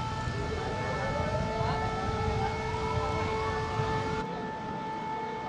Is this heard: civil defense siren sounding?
yes